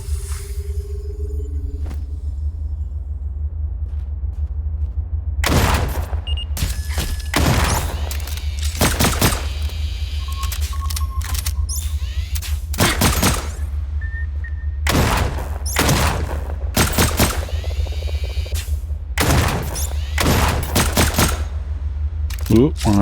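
Gunfire in the video game Lost Skies, with repeated loud bursts of shots in clusters over a constant low hum and brief quiet gaps between volleys.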